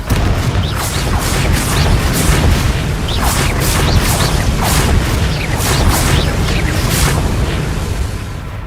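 Explosive spell blasts from Hogwarts Legacy, loud bursts of booming impacts and crackling debris layered under continuous game music and effects, with several distinct hits spread across the stretch.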